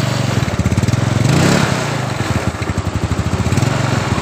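A Yamaha Mio Sporty scooter that burns oil and fuel and runs short on power starts and keeps running close by, its small engine putting out a fast, even, loud putter with a brief swell early on.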